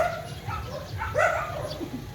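Dogs in a residential subdivision bark and yip a few times, short sharp calls at moderate distance over outdoor background noise, with one louder bark near the middle.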